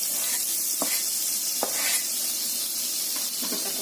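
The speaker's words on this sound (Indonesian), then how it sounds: "Kita tumis bawang putih dan juga jahenya." Garlic and ginger sauté in hot oil with a steady crackling sizzle, broken by a few soft scrapes of stirring, close up and with no voices.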